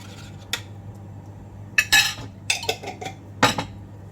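Metal spoon stirring ginataang laing, taro leaves in coconut milk, in a cooking pot: irregular clinks and scrapes against the pot sides, close and fairly loud over a low kitchen hum.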